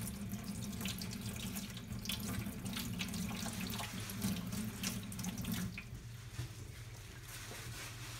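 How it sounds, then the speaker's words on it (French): Tap water runs steadily into a kitchen sink while a radish is washed under it, a loud continuous splashing rush that drops slightly in level toward the end. "Donc, je vais laver un autre radis,"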